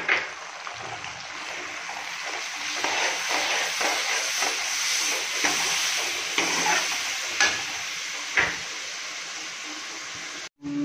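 Masala for an egg curry sizzling and frying in a pan, a steady bright hiss with scattered stirring scrapes and clicks, close and continuous with no talking.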